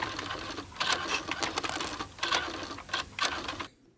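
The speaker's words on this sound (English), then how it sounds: "Geoffrey Palmer's hushed tones introduce the newly invented IBM Quiet Writer, so relatively noiseless that you can just about hear a pin drop in its presence" An IBM Quiet Writer typewriter from a 1984 advert taps out a busy run of close, muted clicking keystrokes in quick irregular bursts for several seconds before stopping abruptly.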